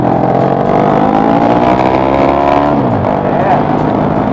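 Car engine revving loudly and continuously close by, its pitch rising and falling through the revs, with no talk over it.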